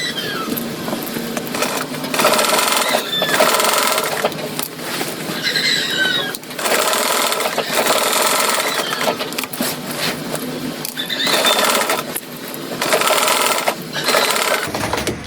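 Sewing machine darning a pair of trousers, running in repeated loud bursts of rapid stitching separated by brief pauses, close up and without talk.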